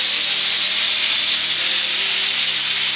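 Steam hisses loudly and continuously from a pressure cooker whistle while pumpkin soup cooks. The hiss is a close, bright rush that stays strong for the full three seconds with no voices.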